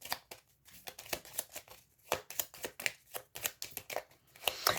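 Tarot cards being dealt and laid out over a spread, a quick run of crisp papery slaps and flicks in an uneven rhythm, close to the microphone with no talking.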